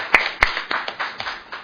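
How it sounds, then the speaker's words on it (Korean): A small seminar audience claps in welcome for a speaker, with a few sharp, fairly close hand claps at an uneven rhythm over a short stretch, no voices heard. "박수로 맞아주시기 바랍니다"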